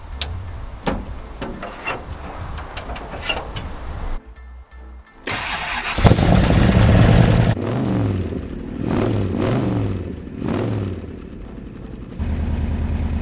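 An AC Cobra 427 SC replica with a V8 cranks and fires up, a few sharp pops before a brief pause, then catches with a loud burst and settles into a deep, lumpy idle with occasional blips of throttle.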